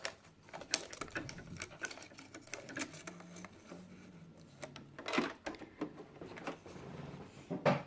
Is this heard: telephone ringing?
no